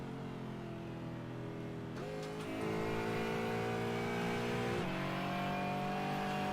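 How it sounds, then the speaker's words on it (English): A GT4 race car at Spa Francorchamps in a sim racing game drones with steady engine harmonics, then shifts down twice with sharp pitch jumps and rises in revs, loud and close with no talk. "John Roberts there just changing down partway around just to make sure that he can get the car back up the revs"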